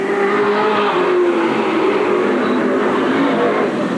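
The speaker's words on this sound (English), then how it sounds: "Here comes the second place car of Robert Sprague." A race car roars past on the Eugene Speedway track in 1987, a loud sustained engine whine filling the clip, with no talking.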